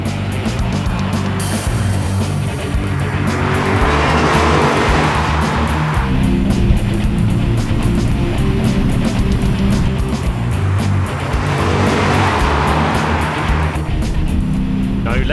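A Lexus IS F engine roars loudly and continuously, its pitch surging and rising as it accelerates, recorded close up.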